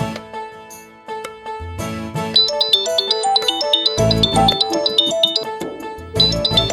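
A melodic electronic ringtone plays loudly and continuously, a repeating tune of bright tones with a steady rhythm and no voices.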